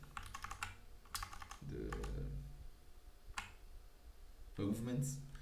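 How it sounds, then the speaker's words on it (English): Quick bursts of typing on a computer keyboard, clusters of close clicky keystrokes separated by pauses, with a person speaking over and between them. "It's so comfortable, like just typing the things"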